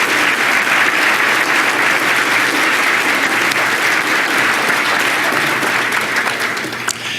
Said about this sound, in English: join me in giving a big round of applause to those folks for their public service.